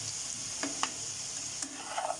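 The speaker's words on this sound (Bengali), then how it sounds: "আমি কয়েকটা আবার আলু ভেজে নিচ্ছি একটু তৈলে" A few potato pieces fry in a little oil with an even, moderate sizzle, broken by a couple of brief scrapes and clicks from stirring.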